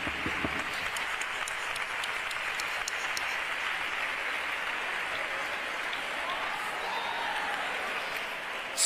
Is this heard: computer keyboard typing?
no